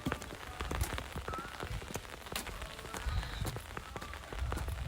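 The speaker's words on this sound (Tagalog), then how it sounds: "Umuulan na eh. Umuulan." Rain falling outdoors, a steady patter of drops on surfaces with scattered sharper taps, moderately close and continuous, with no one talking.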